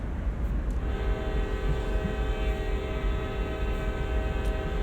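A heavy CSX freight train in Train Sim World grinds toward a stop, a steady low rumble under a sustained metallic brake squeal, loud and close, with no talk.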